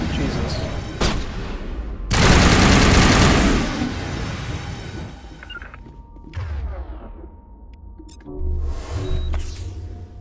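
Sniper rifle fire in the Mass Effect video game: a heavy sustained blast and then several sharper cracks and impacts. The gunfire is loud and close, with game noise in between and a voice speaking now and then.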